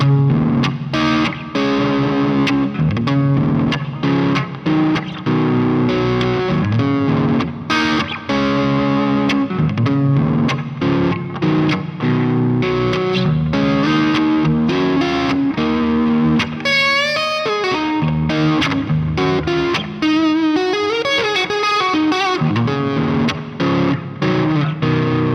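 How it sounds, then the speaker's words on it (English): Electric guitar played through the neck pickup, a hot rail humbucker, heard in a long run of driven, effected riffs and chords with quick note attacks and a few bending, warbling passages, loud and close with no voices. "So the neck pickup has quite an interesting sound."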